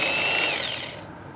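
A power drill spins an HSS step drill bit (4–32 mm) in a steady, close, high-pitched whine that winds down as the motor slows and stops, with no talking.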